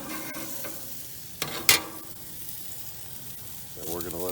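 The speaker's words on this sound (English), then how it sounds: "we're going to turn the meat" Steak sizzles on a grill after being turned, a steady frying hiss throughout with a couple of sharp clatters partway through; a voice is briefly heard near the end.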